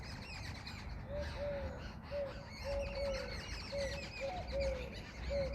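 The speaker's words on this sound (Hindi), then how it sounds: "आज की हमारी ये काउंटिंग पक्षियों की ध्वनि किए जा रही है।" Birds chirp during a home yoga class warm-up: clear, repeated high tweets arrive every second or so, mid-distance and fairly soft over a low ambient hum.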